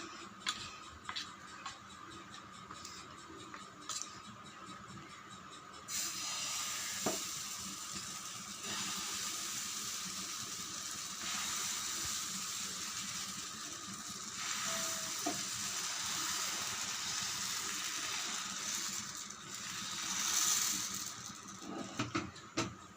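Rava appam batter sizzles on a hot dosa griddle. The frying hiss is faint at first, then grows steadier and louder and continues for a long stretch, with light ticks and scrapes.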